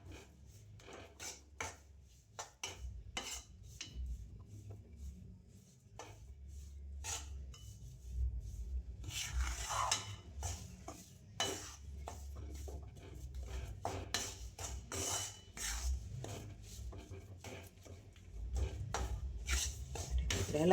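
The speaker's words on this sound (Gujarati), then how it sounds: "હલાવતા રહેવું ને એટલે લોટ શેકાય" Dry flour being stirred and scraped with a spoon in a pan over a low flame while roasting for Gujarati sukhdi, with steady, close scraping and clinking strokes repeating throughout.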